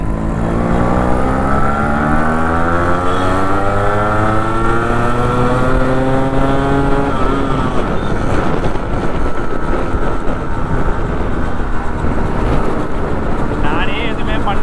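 A Yamaha RX100 two-stroke motorcycle engine, stock with a lightly opened exhaust, revs loudly and continuously close up, pitch sweeping up and down through several throttle blips, with faint talk underneath.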